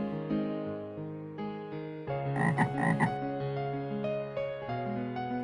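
A cartoon frog croaks in a series of short, resonant calls that swell in the middle, heard alone and fairly close over a soft tonal background.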